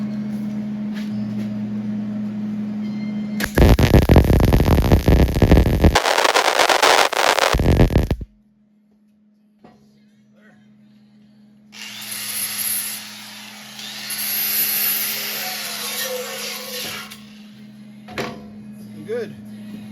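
Loud crackling bursts of welding metal for an ice shack oven, two harsh stretches close by, followed by quieter buzzing and hissing with a low hum underneath.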